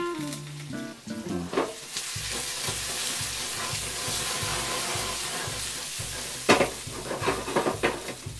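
Carrots and onions drop into a pan of sweet and sour sauce, setting off a loud, steady sizzle with stirring scrapes and clinks, close up and without speech.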